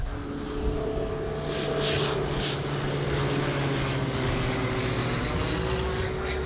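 A low-flying airplane passing overhead near an airport in Piotrków, a steady droning engine and propeller rumble that holds loud and even throughout, without voices.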